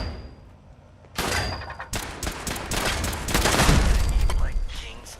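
Gunfire in Fallout 76 erupts after a quieter opening, with dense overlapping shots and bursts continuing loudly to the end.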